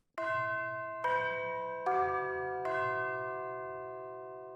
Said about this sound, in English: So first tubular bells.